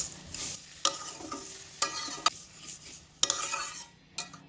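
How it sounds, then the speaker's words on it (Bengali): Milk and sugar are stirred into vermicelli in a pan, with repeated metal spoon scrapes and clinks against the pan over a soft sizzle, close by. "দুধটা ভালোভাবে মিশিয়ে নেব।"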